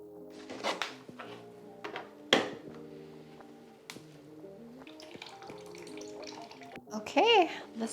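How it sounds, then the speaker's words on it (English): A plant pot is rinsed in a home sink and then filled from the tap, with splashing water, sharp clunks against the basin and a voice talking briefly in between. "let me rinse this out in my sink and then we'll fill up with water"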